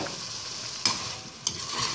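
Sautéed vegetables stirred into a beef white karahi in the pan: a steady soft sizzle with two sharper scraping swishes from the spoon, close and without talk.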